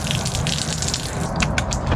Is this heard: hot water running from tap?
yes